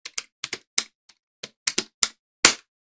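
Someone types a PowerShell command on a computer keyboard, adding a pipe symbol and format list: about a dozen sharp, irregular key clicks, quiet and close, ending with a firmer keystroke.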